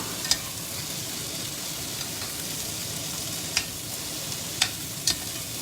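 Chunks of beef for boeuf bourguignon sear in a hot pan with a steady, dense sizzle, broken by a few sharp clicks of utensil against pan as the meat is turned.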